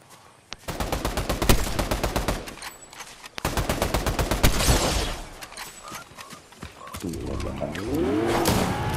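Rapid bursts of automatic gunfire in a video game, loud and close, rattling in two long strings of rhythmic shots, followed by scattered noise and a rising whine, with a voice talking briefly.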